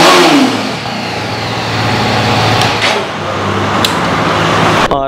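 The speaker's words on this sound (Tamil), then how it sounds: "வண்டி இப்போ நான் உங்களுக்கு ஸ்டார்ட் பண்ணி காட்டுறேன் பாருங்கள்" A second-hand motorcycle engine is started and revved up close, rising and falling loudly in a few throttle blips.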